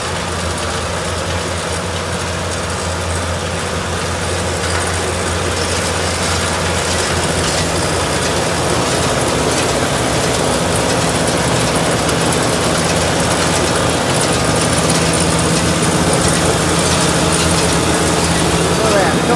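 A square baler runs continuously while starting a bale, giving a steady loud mechanical clatter of ratcheting and gear noise throughout.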